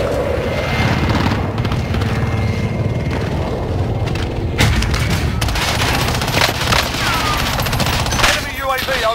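Call of Duty Plunder airstrike: dense, continuous gunfire and repeated booming explosions mixed with aircraft noise, loud and chaotic throughout, with brief radio-style voice callouts.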